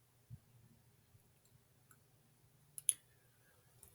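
A few faint, sharp computer mouse clicks, a soft one early and a clearer double click near the end, against a very quiet background hum.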